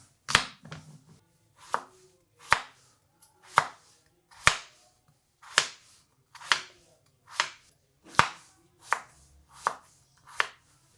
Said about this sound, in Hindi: आलू भी काट लेंगे।